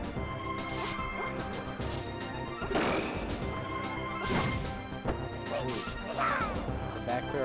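Forward smash hits in a Super Smash Bros 64 tournament match: several sharp crunching impacts spaced a second or so apart over game music and effects, with commentary voices underneath.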